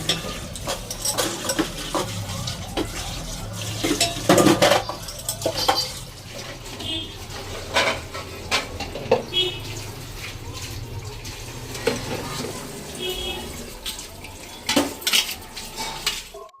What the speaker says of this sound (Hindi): मम्मी कह रही थी बर्तन मांज लेते हैं